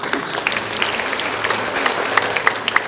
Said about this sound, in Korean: 박수 좀 할까요? 박수.